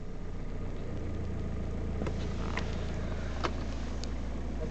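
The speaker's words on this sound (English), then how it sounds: "Vehicle starts nicely." A VW Touran engine idles just after starting, a steady close mechanical hum with a slight change in tone early on and a few faint ticks over the drone.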